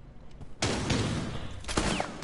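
Video game gunfire in a tactical shooter: a short rapid burst of shots, then a second heavy burst about a second later, loud and close over faint background noise.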